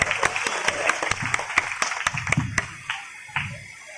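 An audience at a Muzaffarnagar temple event for an Ahilyabai Holkar statue unveiling claps to welcome Baghel. The claps are sharp and fairly close, scattered rather than a dense roar, and thin out toward the end.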